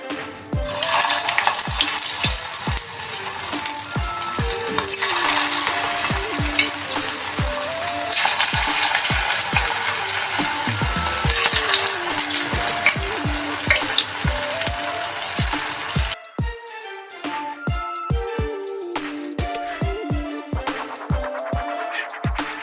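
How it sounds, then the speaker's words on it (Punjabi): Vegetable Manchurian balls deep-fry in hot oil with a dense, continuous sizzle close up, punctuated by regular sharp taps and clicks of a utensil, easing briefly toward the end before the frying hiss returns. "ਆਪਾਂ ਜਿਹੜੇ ਹੁਣ ਮਨਚੂਰੀਅਨ ਬਾਲਸ ਰੈਡੀ ਕੀਤੇ ਸੀ ਉਹ ਇੱਕ ਇੱਕ ਕਰਕੇ ਇਹਦੇ ਵਿੱਚ ਪਾਵਾਂਗੇ ਤੇ ਉਹਨੂੰ ਫਰਾਈ ਕਰਾਂਗੇ"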